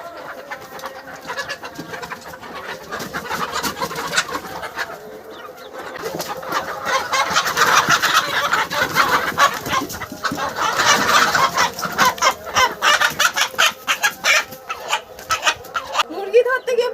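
A desi village rooster clucks and squawks in agitated bursts while being chased and caught, growing louder and busier midway, with voices and other birds mixed in.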